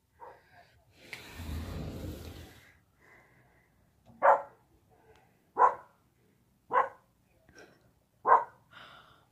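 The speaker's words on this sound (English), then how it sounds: "have no clue what she's barking at" A dog outdoors in fresh snow gives four sharp, loud barks spaced roughly a second and a half apart, after an earlier burst of rustling noise and quiet gaps between barks.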